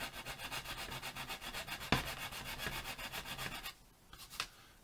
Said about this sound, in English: you just pop your sander in and you give it a rub